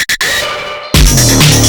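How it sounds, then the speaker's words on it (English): A distorted electro synth, run through amp-simulator-style distortion, comes in with a gritty, textured buzz after a short, choppy stuttering lead-in, loud and dense with a heavy low end. "it's like amp simulator sounds that give you that kind of very textured distortion"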